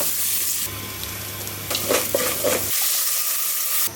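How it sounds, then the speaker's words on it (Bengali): Pulao with carrots, long beans and green chillies being stirred and fried in a pan, a steady close sizzle with scraping stir strokes in the middle, then quieter frying. "পোলাও রান্না করতেছি"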